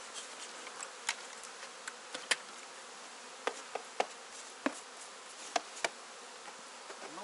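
Soft steady hum of bees working at a beehive stacked with honey supers, a faint continuous buzz with occasional louder close fly-bys of individual bees.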